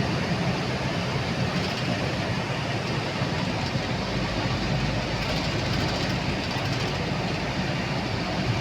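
Continuous loud rumble and roar of a metro train running on the track, steady throughout with faint rhythmic clatter, heard from inside or close by.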